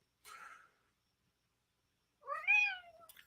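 A large pet cat gives two meows indoors, a short faint one and then a longer, clearer rising-and-falling meow, close by with quiet around them.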